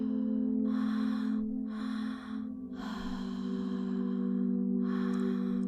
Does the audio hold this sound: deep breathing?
yes